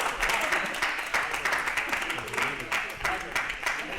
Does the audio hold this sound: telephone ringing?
no